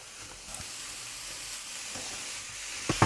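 Minced meat for chilli con carne sizzles in a pan, a soft steady hiss with a faint clink of the spoon now and then and a louder scrape right at the end.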